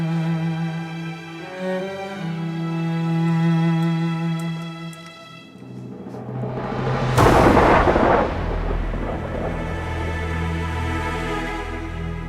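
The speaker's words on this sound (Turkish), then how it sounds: "Top atışları başlasın mı hünkâr?" In a video game, a cannon salute booms out as one loud, rumbling blast midway through, after orchestral music, with a long roll of echo trailing off beneath the continuing score.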